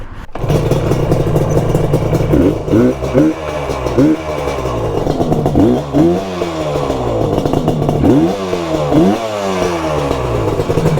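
A motorcycle engine, an RD350 cafe racer or XS650 tracker, runs steadily on a roadside test ride, with repeated rising and falling revs and clattering mechanical noise throughout, close and loud.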